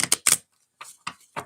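Tarot cards are shuffled by hand in a few quick, crisp bursts of clicking and flicking, close and clear, with short pauses between them.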